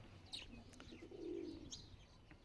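Wild pigeons coo softly in low, rolling calls, with a few faint chirps and light rustling nearby in a quiet setting.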